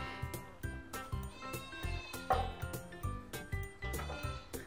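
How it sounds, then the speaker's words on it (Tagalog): Goats bleat repeatedly in overlapping calls, close and rhythmic, over a low murmur of background noise. "Ayan, ang ating mga kambing."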